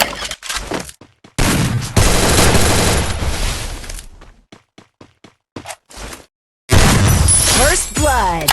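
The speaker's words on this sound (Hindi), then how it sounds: "पिछले राउंड की तरह मैंने इस राउंड में भी MP40 से हेडशॉट मारके तनाश भाई को" An MP40 submachine gun fires in the Free Fire video game: loud, rapid bursts of automatic fire, broken by short pauses and separate single shots, mixed with game effects.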